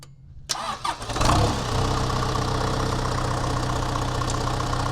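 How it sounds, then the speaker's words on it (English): An engine on a farm cranks and catches after a few tries, then settles into a loud, steady idle close by, running continuously. "It fired up! Now that is almost unbelievable. Look at it go. The engine started."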